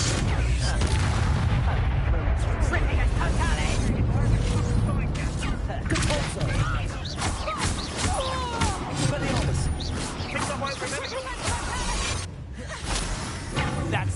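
In the Hogwarts Legacy video game, a Bombarda explosion spell bursts amid continuous battle booms, whooshes and crashes, loud and dense throughout, with voices talking over the combat.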